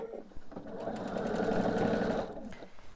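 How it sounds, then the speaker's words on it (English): A sewing machine stitches binding onto a quilt, a close, steady mechanical whir lasting about two seconds that starts and stops between quieter handling sounds. "Now I'm going to take this back to the machine and sew from here to finish getting my binding onto my quilt."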